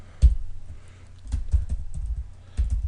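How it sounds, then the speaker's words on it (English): Keystrokes on a computer keyboard while entering QuickBooks account data, a few distinct close taps with pauses between them. "Type a colon,"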